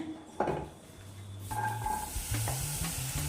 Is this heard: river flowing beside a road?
no